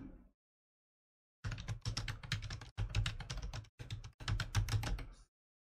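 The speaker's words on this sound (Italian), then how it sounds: "inserisco l'account" Quick bursts of keystrokes rattle on a computer keyboard as an email address is entered, clicking in uneven clusters with short pauses between, close and clear after a brief silence.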